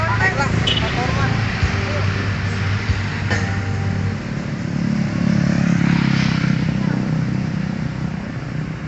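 A motorcycle engine rumbles nearby for several seconds, steady and loud, with clattering and mixed street noise in the background.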